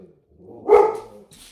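A single short, close bark from a dog reacting to a snowplow, standing out against a quiet background.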